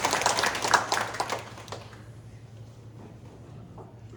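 A church congregation at a Sunday morning Korean service bursts into a short round of applause that is close and lively and fades after about two seconds, leaving a quiet room with a low hum.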